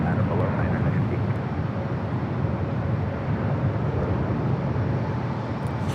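Japan Airlines Boeing 787-9 Dreamliner taking off from LAX runway 24 left, a loud, steady, broadband engine roar that holds evenly throughout, dense and continuous.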